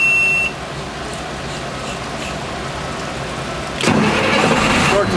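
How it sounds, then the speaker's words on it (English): A fire truck's engine cranks and catches during a pump shift, rising abruptly from a steady low background hum into a loud, sustained rumble near the end, with a faint beep at the start. "Start the truck"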